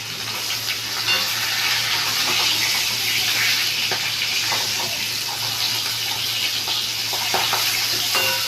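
Rohu fish heads frying in hot oil in a home kitchen: a loud, continuous sizzle with crackling spits and occasional stirring scrapes, close and steady throughout.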